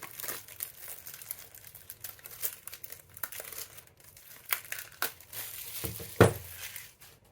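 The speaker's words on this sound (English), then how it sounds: "Crack that open. A little crinkling for my freaks out there." Plastic wrap crinkles and crackles close up as a tarot deck box is unwrapped, in irregular bursts with a sharper tearing snap near the end.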